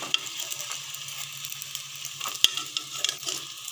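Egg puffs frying in a pan on a low flame make a soft, crackly sizzle with scattered sharp pops and clicks, fairly quiet and close, with no voices.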